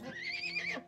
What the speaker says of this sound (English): Just send in the horse to finish them.